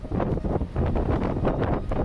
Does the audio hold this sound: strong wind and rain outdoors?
yes